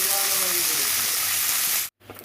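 Washed Gobindobhog rice sizzles loudly in hot oil, a dense continuous frying hiss up close that cuts off abruptly near the end, followed by a brief quieter rustle.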